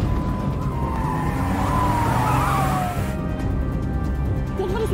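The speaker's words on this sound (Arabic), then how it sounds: "بوليس بوليس بوليس." Police car siren in a comedy film chase, a wailing siren rising and falling over a continuous car engine roar and road noise, moderately loud and fairly close, with screeching tones mixed in.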